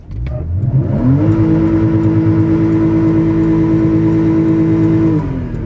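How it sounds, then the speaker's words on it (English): A 2015 Porsche Cayman S engine revs hard from a launch-control start, rising quickly and then holding a loud, steady high-rpm drone close by for several seconds before easing off at the end. "that engages the launch control. Now you just hit the gas"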